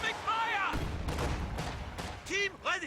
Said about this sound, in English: Scott continues to fire away.